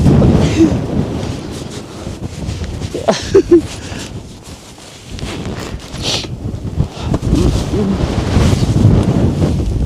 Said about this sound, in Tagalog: Kailangan tumalikod guys, napakalakas ng hangin.